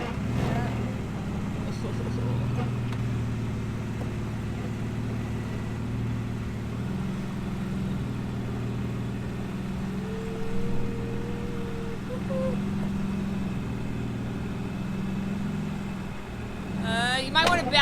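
A Hemi-powered Jeep idles low and steady while crawling in first gear on a trail, a continuous rumble throughout with people talking over it.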